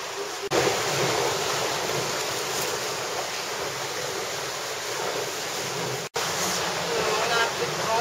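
Wind buffets the microphone aboard a sailing boat while waves wash steadily alongside, a loud continuous roar broken by one brief dropout near the end.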